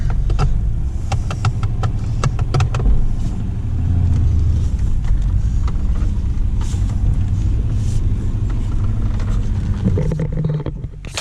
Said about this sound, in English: the car actually runs and drives under its own power, thankfully